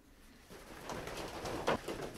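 Young squab pigeons in a loft give soft, low cooing calls, faint and close, in a few short murmuring bursts over quiet background.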